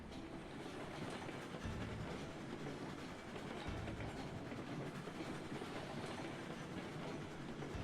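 Train wagons roll steadily along rails in a farming video game, a continuous low rumble with rhythmic clickety-clack from the wheels, moderately loud and without talk.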